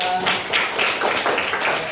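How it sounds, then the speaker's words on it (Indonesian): Schoolchildren in a classroom clap their hands together in quick, irregular bursts, with voices talking and calling out over the clapping. "Tepuk tangan kita semuanya."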